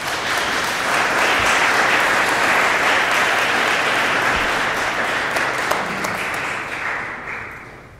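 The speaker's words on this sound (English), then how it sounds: "So give him a round of applause for backing up." Listeners at a talk on African American participation in clinical trials give a round of applause. The full, dense clapping runs loud for several seconds, then thins and fades near the end.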